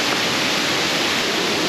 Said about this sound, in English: get up near this cool waterfall